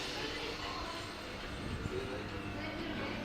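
A train pulls out of Dumbarton Central station in Scotland, a steady rumble of wheels and carriages rolling along the rails with some faint squeal, fairly close and continuous, with voices in the background.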